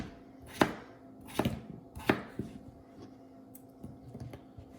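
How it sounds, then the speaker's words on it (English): A knife chops peeled, halved potatoes into chunks, three firm board knocks followed by lighter, quicker cuts, nearby and otherwise quiet. "you're just gonna peel the potato, cut it in half, and then just cut them. Kind of dice them."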